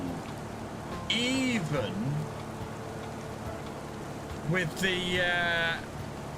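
Rain falling in Farming Simulator 25 on a plowed field, a steady wash of noise running through the whole stretch while someone talks over it in two short bursts.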